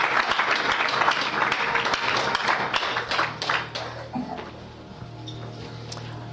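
A church congregation applauds and claps together during a worship service, a dense, steady patter of many hands that thins toward the end, with a low sustained tone underneath.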